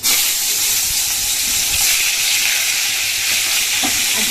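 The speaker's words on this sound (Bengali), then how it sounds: "এখানে কিছুটা বেগুন ভাজা হয়ে গেছে" Cut eggplant slices frying in a pan, with a steady, loud, close sizzle and crackle that runs without a break and has no voices over it.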